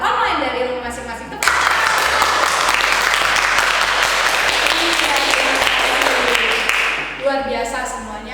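Applause for Sunday school children at an online Sunday school service swells up and holds steady for several seconds. A voice speaks briefly before it starts and again as it fades.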